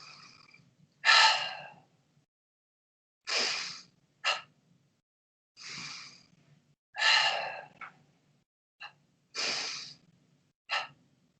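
Sharp, forceful breaths repeat in a slow rhythm during a martial arts staff kata, each exhale a short loud burst through the nose or mouth, with quiet pauses between and no speech.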